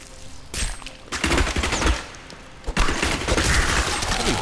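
Rapid bursts of Demon Hunter weapon fire in Diablo 3, dense volleys of crackling shots coming in waves with short gaps between them, loud and constant, with no talk.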